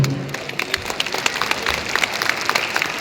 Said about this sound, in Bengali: সবার কাছ থেকে কিন্তু জোরে করতালি আশা করব